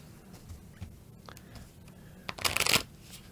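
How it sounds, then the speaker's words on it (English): Jurassic World Dominion Stomp N' Smash board game cards being shuffled by hand, a soft riffling burst near the end after a few quiet rustles, close and fairly quiet with no talking. "I'll shuffle up the cards."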